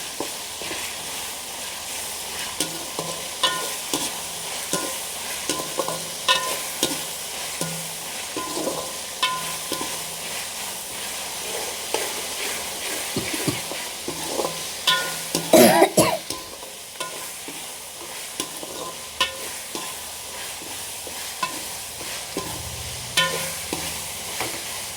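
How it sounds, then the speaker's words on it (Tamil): Ginger garlic paste sizzling in a pan, stirred continuously with frequent scraping and tapping strokes over a steady close frying hiss, with a brief louder burst of clatter midway. "இஞ்சி பூண்டு சேர்த்ததுக்கு அப்புறமா நல்லா பச்சை வாசம் போகிற அளவுக்கு கிளறிக்கும்."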